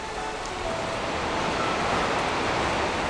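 Rushing mountain streams in the Partnach valley below the Zugspitze, a steady broadband roar that stays loud and constant throughout, with no speech.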